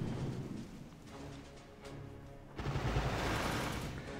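Artillery barrage in the mobile strategy game Boom Beach: rolling, rumbling blasts rise and fall, then swell into a heavier, sustained roar of shelling near the end.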